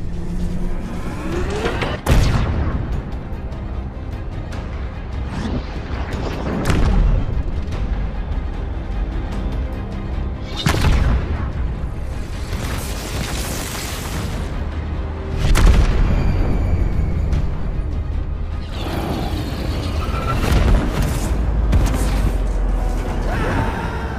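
Heavy booming cannon blasts from a MAC gun aboard a UNSC battle cruiser in a Halo space battle, several deep, loud impacts spread across a continuous rumbling, roaring battle din.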